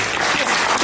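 A theater audience claps loudly all at once to vote a defendant guilty, a dense burst of applause lasting under a second.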